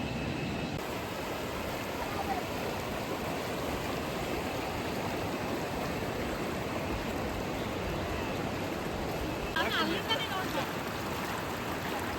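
A river in full flow runs beside a road through thick forest near Surlabbi Waterfalls, and its steady rushing water stays broadband and constant throughout, faint and distant, with no voices.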